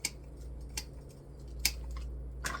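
Scissors trimming the stems of artificial fall florals, four or five sharp distinct snips spread out over a low steady hum, close and crisp.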